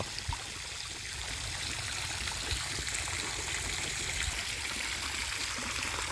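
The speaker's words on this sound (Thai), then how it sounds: "เดี๋ยวเติมน้ำเหมือนนี้ เติมน้ำใส่บอครับ" Water pours steadily into a fish tank as it is refilled, making a continuous, close trickling and splashing stream that stays fairly quiet and level throughout.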